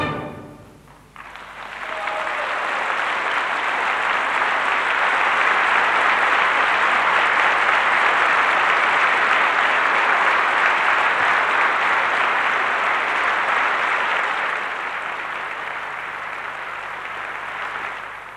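Audience applause after a performance of Beethoven's Ninth Symphony with a conservatory choir and the Luxembourg Cathedral choir, a dense sustained ovation swelling quickly, holding steady for many seconds, then thinning slightly at the end.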